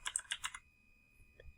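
A few quick keystrokes on a computer keyboard while an answer is typed into a web form, crisp and close, stopping after about half a second, followed by near quiet and a faint click.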